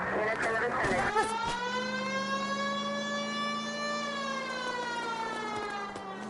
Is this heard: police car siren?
yes